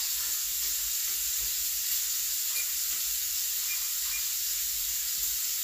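Shrimp sizzling in hot ghee in a pan, a constant bright hissing crackle held close and steady throughout with no talking over it.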